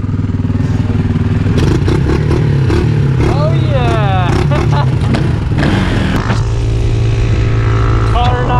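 Several 2019 Yamaha Raptor 700 ATVs ride trails together, their engines droning loud and steady with revving swells and rattling clatter throughout, while people talk and shout over the noise.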